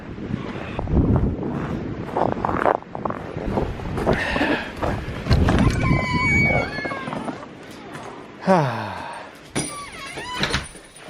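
Gusty winter wind buffets the microphone outdoors on a bitterly cold day, blowing snow over tracks, in loud roaring surges with a few brief voice sounds in between.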